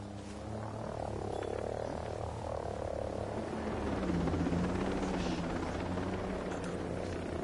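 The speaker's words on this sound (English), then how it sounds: "Hostile chopper overhead." A hostile helicopter in the Ghost Recon Breakpoint video game produces a continuous, loud rotor drone overhead, with low rumbling pulses over a dense wash of game ambience.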